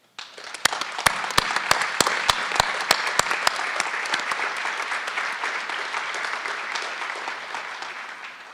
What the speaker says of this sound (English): please stand and help me applaud them for their outstanding work